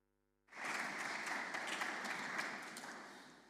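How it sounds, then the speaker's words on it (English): Sudden onset of a public lecture audience clapping together, a dense, steady wash of applause that holds at even loudness and then tapers slightly. "Professor Bruni unfortunately can't yet hear your applause"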